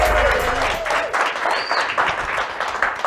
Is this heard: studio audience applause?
yes